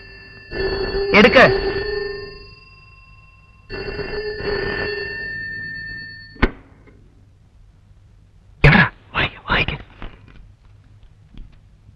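A telephone rings in two long electronic bursts, loud and close, followed by a sharp click and a few short voiced sounds near the end.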